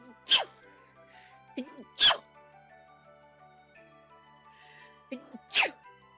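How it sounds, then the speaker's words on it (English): Three loud, sharp sneezes burst out at intervals, close by, with soft breathy sounds and faint stirring in the quiet between them. "imagine me trying to sleep when I'm sneezing like that, like every 5 minutes"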